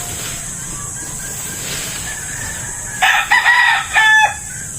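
A rooster crows once near the end, a loud strained call over a quiet outdoor background with faint distant bird sounds.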